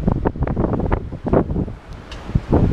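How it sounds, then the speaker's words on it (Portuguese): Gusty wind buffets the microphone in uneven, rumbling bursts on a calm beach in Recife at low tide near dusk, loud and close with brief lulls between gusts. "Tá ventando aqui"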